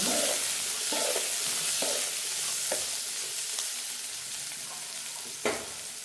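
Onions sautéing in a pan, a steady close sizzle broken by several scraping stirs of a spoon at irregular intervals, with no voices.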